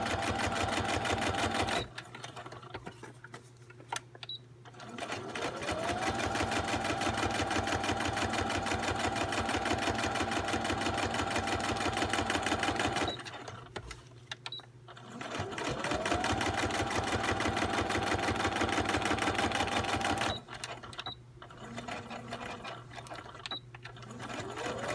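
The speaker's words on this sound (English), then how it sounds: "I'm sewing around" A sewing machine stitches around envelope pockets in long steady runs, its close mechanical whir stopping twice for brief pauses before starting up again, with no talking.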